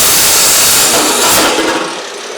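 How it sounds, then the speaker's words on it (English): An angle grinder cuts through the exhaust pipe of a turbo V12 Mercedes, a loud, steady, close-up broadband hiss and screech that fades slightly as the cut finishes. "then we take our Amazon angle grinder."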